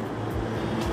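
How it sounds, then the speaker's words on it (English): Street traffic on Parliament Street, a continuous low rumble of passing vehicles, loud and close, with no other distinct events. "hopefully you can hear me with the traffic"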